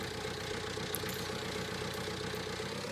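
A tractor engine idles steadily in Farming Simulator 19, a constant mid-low diesel drone with a faint rhythmic knock and no talk over it.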